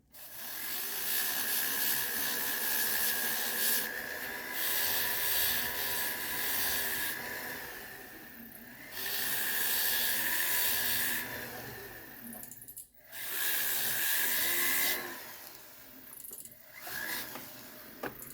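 A flex shaft with a polishing brush and compound works the sides of a sterling silver ring, giving a steady whirring rub in several sustained passes with brief pauses between them.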